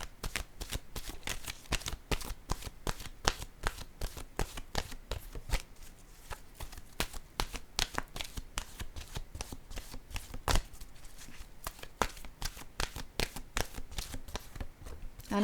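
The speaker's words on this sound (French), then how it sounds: "Je vais piger maintenant une carte de mon oracle de l'âme intuitive." Oracle cards being shuffled before one is drawn: a long run of rapid, crisp riffling flicks close up, quiet and steady for many seconds, with no talking.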